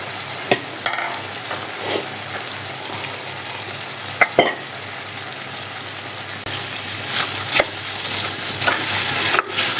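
Dried fish, potatoes and jackfruit seeds stir-fry in a pan with a constant close sizzle, punctuated by occasional sharp scrapes and clacks of the spatula, and no talking.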